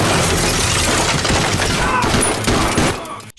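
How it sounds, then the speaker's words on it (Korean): Relentless gunfire barrage in an action movie, a dense continuous fusillade of shots and cracks that ends abruptly after a few seconds. "쉴 틈도 없이 퍼붓는 총알 세례"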